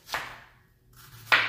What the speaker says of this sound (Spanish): vamos a picar la cebolla